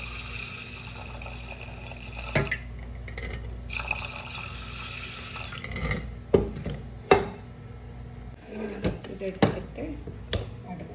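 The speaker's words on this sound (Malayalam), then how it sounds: "ലേശം വെള്ളം ഒഴിച്ച് കൊടുക്കുക." Water is poured over washed green gram seasoned with turmeric powder and salt in a kitchen vessel, heard as broadband rushing bursts with clinks and knocks of utensils around them.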